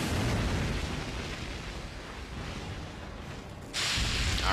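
A large explosive attack in The Legend of Dragoon, a sustained roaring blast filling the whole span with a sharper surge near the end.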